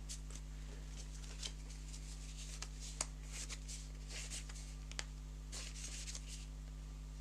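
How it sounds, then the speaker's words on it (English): A deck of game cards being shuffled by hand during a tabletop play session, soft rustling with light taps and riffles, quiet and close, over a low steady hum, with no talking. "we just put them into a new deck, everything together, and then we'll shuffle it up"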